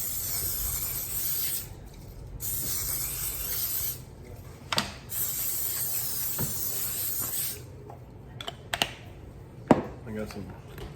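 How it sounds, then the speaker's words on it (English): Olive oil spray hissing from a can onto quartered potatoes, several long steady sprays broken by short pauses, followed by a few quicker spurts and light knocks near the end. "We'll use some olive oil spray and spray them pretty generously"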